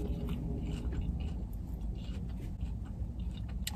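Crunchy Arby's crinkle-cut fries bitten and chewed close to the mic, a steady run of crisp crackling bites and mastication with no talking.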